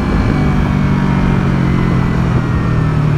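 Motorcycle engine droning steadily while the rider downshifts from fourth to third to slow down, a continuous loud, close rumble with no break.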